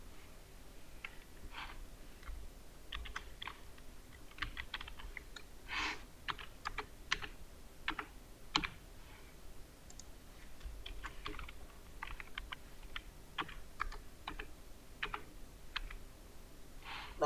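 A password goes in on a computer keyboard, a run of light, irregular key clicks in short bursts and scattered single taps, close and fairly quiet over a faint background hiss.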